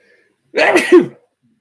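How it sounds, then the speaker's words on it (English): A single loud sneeze bursts out after a brief silence, sharp and close, then cuts off. "I'm gonna sneeze"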